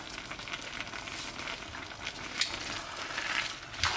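Chilli con carne with crumbled beef stock being stirred in a pan: a soft, steady sizzle with light scraping and spoon movement, quiet and close throughout.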